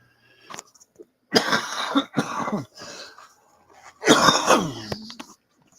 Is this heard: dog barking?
no